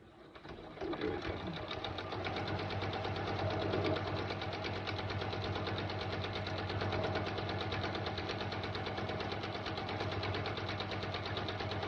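A sewing machine stitches a backpack zipper panel with a 1/4-inch seam, running as a steady, close mechanical whir and rapid needle clatter that continues evenly for the whole stretch.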